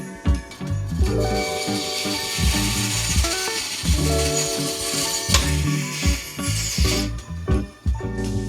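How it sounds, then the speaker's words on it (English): Wooden dowel ends trimmed flush against a small woodworking project, giving a steady run of rubbing, sawing strokes with tonal tool ringing, close and fairly loud throughout, with no talking. "Before I go and put the dowels in on this side, I'm going to trim the dowels on this side."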